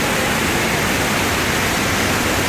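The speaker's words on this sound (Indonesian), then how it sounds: "Ini adalah air terjun Kemam, yang katanya ini adalah konon miniaturnya air terjun Niagara." Temam waterfall in Lubuk Linggau, a small cascade likened to a miniature Niagara, roaring as a loud, steady broadband rush with no talk over it.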